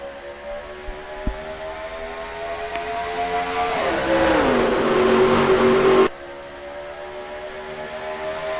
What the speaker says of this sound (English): We are green flag racing at Atlanta.